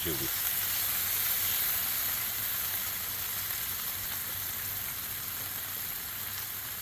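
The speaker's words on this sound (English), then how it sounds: "even though this is still sizzling on here" Steady, close sizzling of pork roll frying on a hot Blackstone griddle, a constant crackling hiss with no talking.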